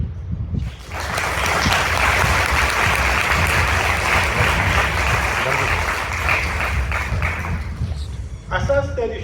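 Loud, sustained audience applause after a speech by a government pleader at the Bombay High Court bench in Aurangabad, rising quickly and filling about eight seconds before fading, with a brief voice at the end.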